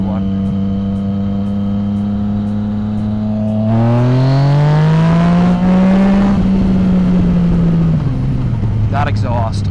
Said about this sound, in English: That exhaust, ugh.